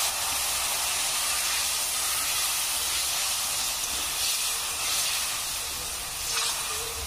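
Steady loud hiss and sizzle as a little water is poured into cooking dal in a hot pan, a continuous spitting wash lasting throughout with no voices.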